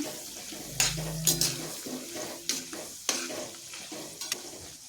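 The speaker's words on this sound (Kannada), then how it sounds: "ಈಗ ಇಲ್ಲಿ ಅರ್ಧ ಸ್ಪೂನ್ನಷ್ಟು ಸಾಸಿವೆನ ಸೇರಿಸಿ ಅದನ್ನು ಸಹ ಫ್ರೈ ಮಾಡ್ತಾ ಇದ್ದೀನಿ" Mustard seeds and lentils fry in a pan of oil for coconut rice, a soft continuous sizzle close by, punctuated by sharp pops and scraping stirs.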